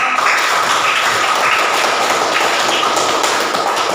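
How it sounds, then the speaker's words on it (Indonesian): Classroom of students applauding together, a dense, steady patter of many hands clapping at close range throughout, with no speech over it. "kalau tidak ada, tepuk tangan dulu untuk kita semua"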